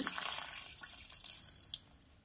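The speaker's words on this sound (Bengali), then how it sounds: "এখানে আরেকটু জল লাগবে, আমি দিয়ে দিচ্ছি আরেকটু জল।" Water poured into a pot of cauliflower boiling on the stove, a brief soft splashing gush that tapers off after about two seconds.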